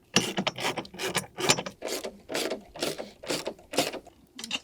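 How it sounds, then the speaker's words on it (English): Ratchet cracking loose 18 millimeter bolts buried in the cowl of a 2019-2023 BMW X5, rhythmic rasping clicks in about a dozen quick repeated strokes, close and prominent. "get this one just cracked"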